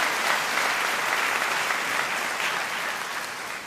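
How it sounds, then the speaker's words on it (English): Dense, sustained applause from a school-district audience at a back-to-school convocation, steady and loud throughout with no pauses. "Let's give everybody a round of applause"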